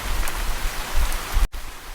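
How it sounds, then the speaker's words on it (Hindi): Heavy downpour of rain as a cartoon horror story sound effect, a steady dense hiss of rain with a brief dropout near the end. "तभी जोर की बिजली कड़की और मूसलाधार बारिश शुरू हो गई।"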